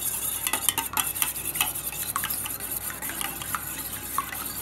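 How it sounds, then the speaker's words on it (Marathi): An egg being beaten in a bowl for milk pudding, rapid irregular whisking clicks and scrapes of utensil against the bowl, close and continuous, with no talking. "अंड चांगलं फेटून घ्यायचं आपण व्यवस्थित"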